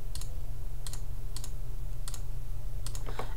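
Five light, crisp clicks from a computer mouse used while a shift key is held, spaced irregularly about half a second apart over a faint steady hum.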